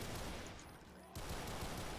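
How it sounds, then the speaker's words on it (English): Rifle fire in the Doom mod Project Brutality, a dense burst of rapid gunshots that breaks off briefly, then resumes loud and continuous, close up. "probably because I'm, you know, firing a rifle"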